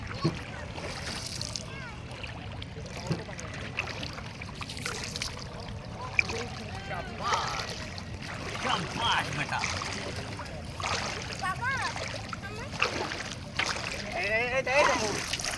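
A young child splashing in water while learning to swim, intermittent faint splashes and trickles close by, with adults talking and encouraging throughout.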